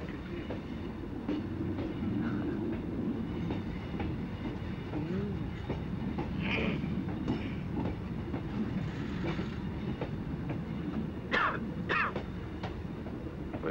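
A train runs with a low, steady rumble and faint rhythmic clatter from the rails at night, heard from inside at a moderate distance, with scattered brief higher noises over it.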